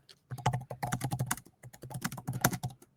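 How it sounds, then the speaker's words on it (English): Fast typing on a computer keyboard: rapid, close clatter of keystrokes in two quick runs separated by a brief pause. "I'm typing so fast."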